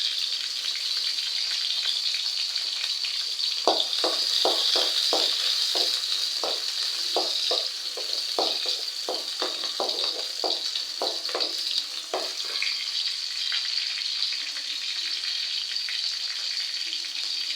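Fifteen garlic cloves sizzle in oil in a pan, with a steady frying hiss throughout and a run of rhythmic scraping stirs in the middle.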